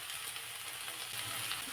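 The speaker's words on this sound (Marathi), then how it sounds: "थोडा वेळ हे चांगलं परतून घेतलं" Wild vegetable flowers are sautéed in a pan with a soft, continuous sizzle and light crackle, fairly quiet and steady throughout, with no talking.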